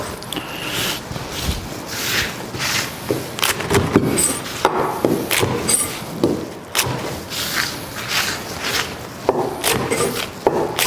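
A knife slices through a crispy, pan-fried hanwoo beef quesadilla on a cutting board, giving repeated close crunchy cuts and crackles with knocks against the board, spread across the clip.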